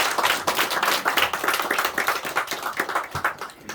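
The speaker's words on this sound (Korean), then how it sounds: "하나님께 영광의 박수 드리겠습니다" A church congregation at an Easter Sunday service claps together in dense, rapid applause, a steady, close patter of many hands with no talking over it.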